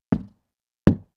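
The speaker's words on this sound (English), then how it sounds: "The impacted sound is wood hollow" Two separate synthesized hollow wooden knocks, sharp and close, spaced under a second apart with silence around them.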